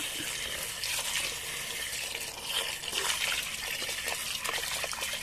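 Crabs being washed under running water for a crab curry, a steady close trickle and splash of water with small intermittent clatters, continuous and moderately quiet.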